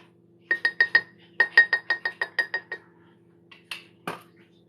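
A whisk clinks briskly against a mug while stirring keto Cinnabon mug cake batter, in two quick bursts of bright, evenly spaced strikes followed by a couple of softer knocks.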